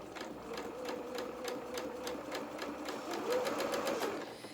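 A domestic sewing machine runs a normal construction stitch on a sample, a steady fast rapid-fire needle clatter with a faint motor whine underneath, quiet and close, with no speech.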